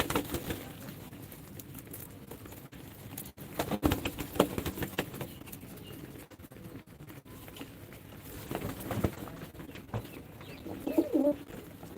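One-month-old racer pigeon babies cooing softly and repeatedly at close range, with low murmuring coos, light rustling and pattering movement in the background and no voices.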